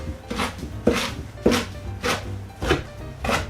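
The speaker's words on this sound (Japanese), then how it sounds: "もう少し横と斜めに刃を入れて小さく切っていきます" A knife chops spinach leaves on a cutting board in six evenly spaced, crisp strokes, close and clear, while school-lunch salad is being prepared, with no voices.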